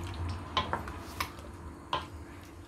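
Chicken mixed with pasta sauce and vegetables in a pan, with a few soft utensil clinks and scrapes against the pan over a low, quiet background.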